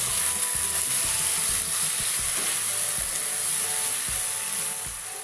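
Boiled taro leaves and grated coconut are stirred together in a hot pan, with rhythmic spatula scrapes and thumps under a constant sizzling hiss that eases slightly at the end; no one speaks.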